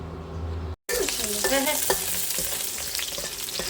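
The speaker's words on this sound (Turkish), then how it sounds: "Bunu biraz daha böyle kaynayana kadar karıştıracağım." A pot of food on the stove being stirred while it sizzles and heats toward a boil, with a steady frying hiss and scraping stir strokes throughout after a brief silent cut near the start.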